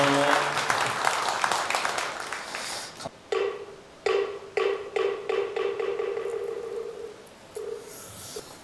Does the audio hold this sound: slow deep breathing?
no